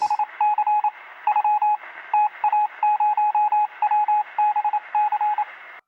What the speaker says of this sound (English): Pitch and rhythm, what is that? Morse code.